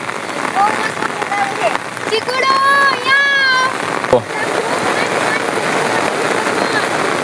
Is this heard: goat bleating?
no